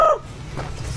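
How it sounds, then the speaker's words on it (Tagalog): A chicken gives a short, close cluck, a brief bright call at the start that fades into low background noise. "Brad, Nakita mo yung manok ko?"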